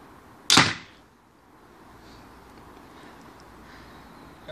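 A crossbow fires a commercial alloy bolt: one sharp, loud snap with a brief ringing tail, then quiet background hiss.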